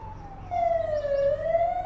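A police car siren wails loudly and close by at a Parks and Wildlife scene, a steady high tone sliding slowly down and back up over a low idling engine rumble.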